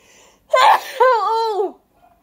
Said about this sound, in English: That's sneezing, by the way.